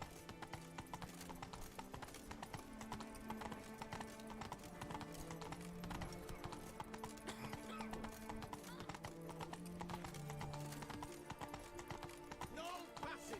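Roach the horse galloping in The Witcher video game, a rapid, steady clip-clop of hooves running continuously under a game music bed, with brief neighs and some talk over it.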